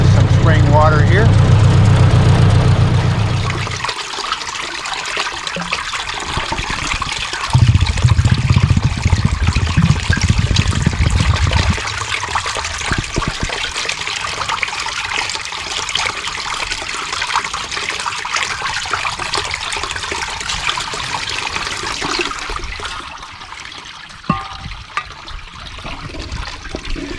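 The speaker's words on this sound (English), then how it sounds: "stop and fill up the canteen with some spring water here." Spring water trickles and splashes steadily as a canteen is filled outdoors, a close, continuous watery hiss that follows a low engine rumble at the start, with brief voices over it.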